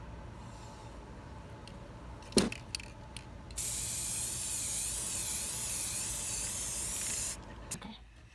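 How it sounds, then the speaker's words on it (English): Spray paint hisses onto the back of a homemade Infinity Gauntlet in one long, steady, close burst of several seconds, after a few clicks and handling knocks, then cuts off with more faint handling. "we're gonna flip it over and spray paint the back."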